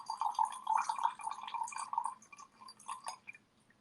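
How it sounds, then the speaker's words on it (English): Red wine glugs out of a bottle through an aerator pourer in a faint, steady trickling stream with bubbly gurgles, thinning out toward the end. "just to show you guys how nice it pours"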